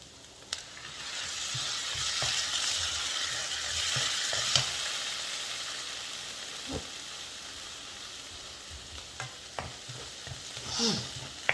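Palak paste cooking with onions in a pan gives a low, steady sizzle and hiss, quiet and close, with occasional soft scrapes and taps of a spoon stirring it, and no speech.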